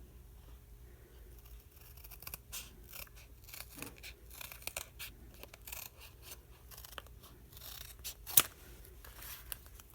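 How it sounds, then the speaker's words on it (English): Scissors snip through paper while a journal page of downtown buildings is trimmed, giving soft, quiet crisp cuts and rustling in an irregular rhythm, with one sharper snip near the end. "I'm just cutting off the end."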